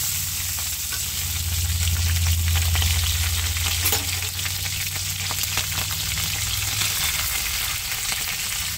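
Green chillies and radhuni seeds frying in hot oil give a steady, dense sizzle that holds at a constant loud level throughout, with faint stirring scrapes and no voices.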